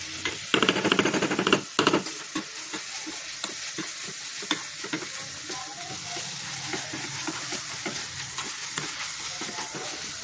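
Sugar syrup bubbling in a pan on the stove while being stirred, with louder scraping and clatter near the start, then a steady close sizzle and intermittent utensil knocks. No talking.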